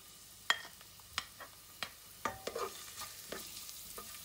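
Chopped garlic fries in three to four spoons of olive oil in a pan for beef lasagna, with a quiet low sizzle broken by sharp stirring clinks and scrapes of a spoon at irregular intervals, no voices.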